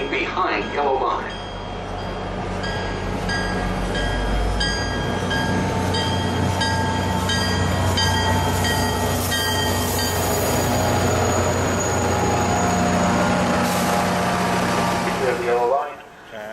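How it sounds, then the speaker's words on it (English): A local high-speed train passes through a station on track 2 during rush hour, a loud continuous rumble of wheels and cars with squealing tones and a platform announcement voice over it, fading at the end. "now passing through track number 2, local high-speed train."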